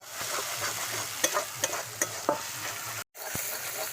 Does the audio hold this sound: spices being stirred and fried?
yes